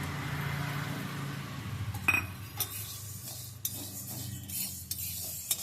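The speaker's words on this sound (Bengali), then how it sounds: "এবার আমি গ্যাসের আঁচটা কমিয়ে এটাকে হালকা আঁচে ভেজে নিচ্ছি" Sago fries in a wok over low heat, giving a soft background sizzle. Sharp clinks and scrapes of a utensil against the pan punctuate it, close and fairly quiet.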